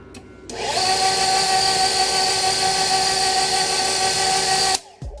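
A stand mixer with a paddle attachment stirs thick cake batter for a lemon blueberry layer cake, its motor whirring up to a steady, loud hum with a high whine for about four seconds before switching off abruptly.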